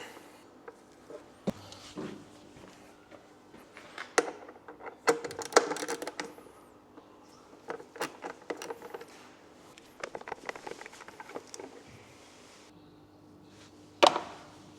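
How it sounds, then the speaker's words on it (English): A bolt being undone on a Yamaha MT 125 motorcycle: scattered metallic ratchet clicks and taps, close and fairly quiet, with a sharper knock at the end. "Now we're going to undo the top bolt."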